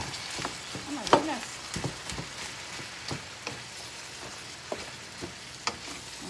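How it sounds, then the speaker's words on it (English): A pot of shrimp ravioli sauce simmering on the stove, giving a soft steady bubbling sizzle with scattered small pops and one sharper clink, close and quiet, with no talking. "Simmering right now."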